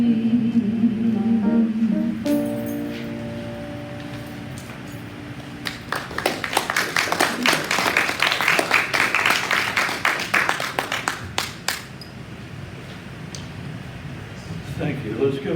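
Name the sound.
audience applause for the musician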